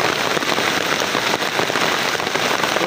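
Heavy rain pours down outdoors in a dense, loud, continuous hiss of drops striking surfaces, with no voices over it.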